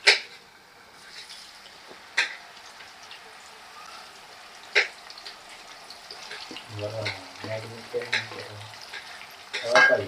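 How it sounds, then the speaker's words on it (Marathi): Marinated prawns frying in a pan, a soft, intermittent sizzle and spatter with sharp clatters of utensil against pan and brief speech-like murmurs near the end. "अशा प्रकारे मी फ्राय केलेले आहे कोळंबी."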